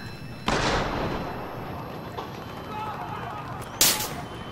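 Gunfire in Battlefield Hardline: two sharp, loud shots about three seconds apart, each leaving a decaying echo, close by.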